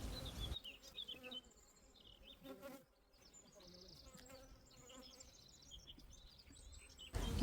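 Honeybees buzz around an open hive during an inspection near the brood, a steady insect drone with scattered higher whines from individual bees passing close, moderately quiet throughout.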